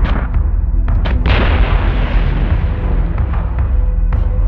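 Ship batteries firing in the space combat game Battlestar Galactica Deadlock: a loud, dense rumble of overlapping booming blasts that rolls on without a break, with sharper cracks cutting through it at intervals.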